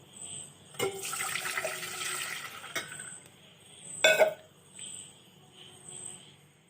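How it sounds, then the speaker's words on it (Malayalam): Milk poured into a pan in a home kitchen, a steady liquid splash and trickle running for a couple of seconds, with a sharper clatter of the pan partway through and quieter kitchen handling around it. "അതിലേക്ക് നമുക്ക് 3/4 കപ്പ് പാൽ ഒഴിച്ചു കൊടുക്കാം"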